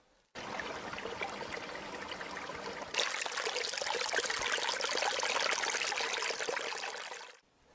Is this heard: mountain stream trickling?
yes